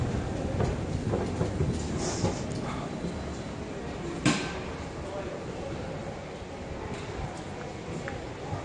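A subway train ride: a steady, broad rumble with occasional clattering thumps from the carriage over the rails.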